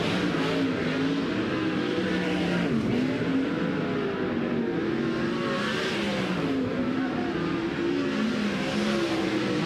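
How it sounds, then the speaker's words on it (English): Race cars circling at speed on the Red Cedar Speedway dirt track in Menominee, Wisconsin, engines droning and rising and falling steadily as they lap, loud and continuous with no talk. "Cars are at speed at the Red Cedar Speedway here in Menominee, Wisconsin"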